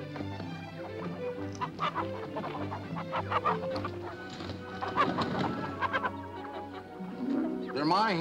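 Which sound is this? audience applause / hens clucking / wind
hens clucking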